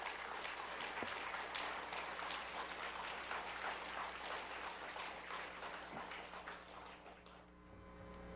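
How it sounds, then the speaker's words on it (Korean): Sustained applause from a congregation at a Korean church gathering, a steady dense wash of clapping that holds for several seconds before tapering off, heard at a distance and fairly faint. "뜨거운 박수 한번 보내주셔야 됩니다."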